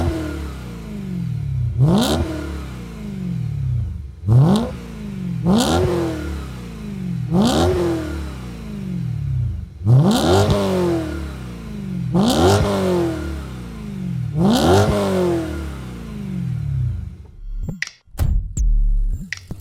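A BMW E92 sports car with a Dinan middle and Eisenmann racing exhaust revs repeatedly, about seven sharp rising blips spaced a couple of seconds apart, each falling back to idle, loud and close, ending in clattering thuds.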